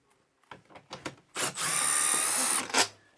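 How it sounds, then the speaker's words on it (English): A power drill fitted with a 5/16 socket spins out a bolt on a 2018 Jayco Jay Feather RV's Furrion Chill Cube air conditioner, a few short trigger blips then one sustained close whine lasting about a second. "I'm going to be using a 5/16 socket to remove our bolts"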